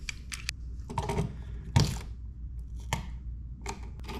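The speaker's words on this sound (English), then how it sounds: "I'll use a utility knife to score the paint and the paper so it comes off clean" A utility knife scores through paint and the paper facing of sheetrock around a wall outlet, making a series of close, dry scratching strokes in short irregular bursts with no speech.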